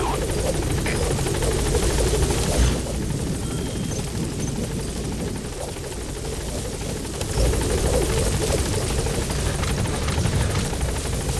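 Support helicopter arriving in Metal Gear Solid V: The Phantom Pain, a steady loud rotor drone with dense low thumping and broadband hiss throughout, dipping briefly in the middle, with a voice at times over it.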